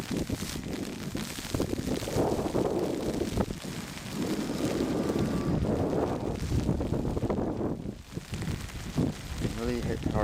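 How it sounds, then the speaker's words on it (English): Gusty wind roars across the microphone during a heavy February snowstorm on a street in Phillipsburg, New Jersey, rising and falling in loud buffeting surges, with someone speaking at times. "Wind is picking up."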